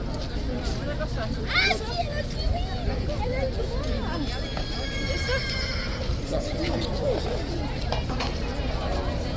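Cavalry horses whinny loudly nearby during a guard changeover at Horse Guards, amid a busy crowd babble, with occasional hoof clops and shuffling in the background.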